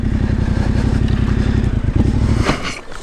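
A Yamaha Tenere 700 motorcycle with a modified stock exhaust idles loud and close with a rapid, lumpy pulse, then cuts off abruptly near the end, leaving a brief clatter.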